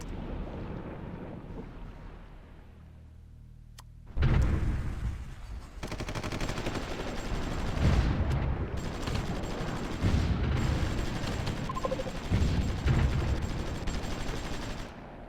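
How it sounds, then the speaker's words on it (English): Naval gunfire in the strategy game Supreme Ruler Ultimate during a battle at Barcelona: a quiet rumble, then a sudden loud burst of shots followed by sustained heavy firing and booms under a constant roar. "yep, shots over there already"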